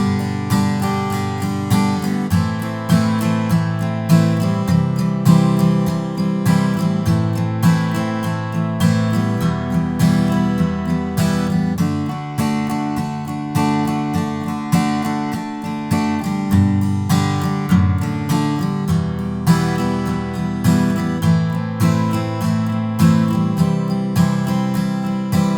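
Acoustic guitar strums the verse chords of a song in a steady, driving rhythm. The chords change every few seconds, played close and clear with no voice.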